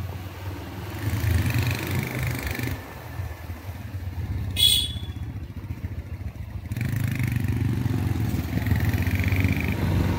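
Three motorbikes carrying two riders each travel along a deserted road toward Nandi Hills, their steady engine drone close and continuous, dipping briefly mid-way before returning at full strength.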